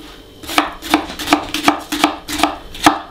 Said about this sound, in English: Let's slice our garlic.